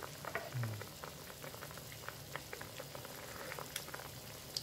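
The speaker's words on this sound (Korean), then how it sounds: "아주 맛있게 끓고 있죠?" A pot of rice cake dumpling soup simmers and bubbles softly, with a continuous faint burble and small pops throughout.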